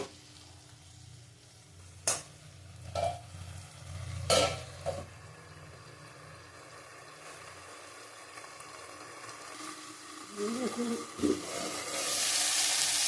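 Tomatoes cook in oil in a covered pan with a little water, a low steady sizzle under sharp spoon knocks and clinks against the pan, the frying swelling louder toward the end.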